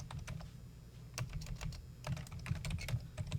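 Typing on a computer keyboard: quick, irregular bursts of close key clicks, sparse at first and then faster and denser, with no talk.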